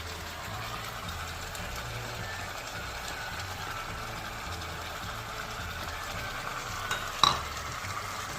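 Chicken frying in a pan over a high flame, a steady dense sizzle that runs throughout, with a brief clatter near the end as potatoes are added.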